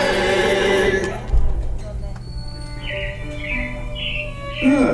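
Chirping robins in an animatronic show at Walt Disney's Carousel of Progress, Magic Kingdom, as bright repeated tweets over a steady mechanical hum and background music.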